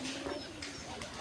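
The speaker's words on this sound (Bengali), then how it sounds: "নিজস্ব বাড়ির খামারের কবুতরগুলা।" Pigeons kept on a home farm coo in a steady, close, low run of calls with no voices over them.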